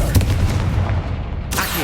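A Confringo spell blast in the Hogwarts Legacy video game lands as a loud, booming burst with a crackling, rumbling tail that holds for over a second before cutting off abruptly.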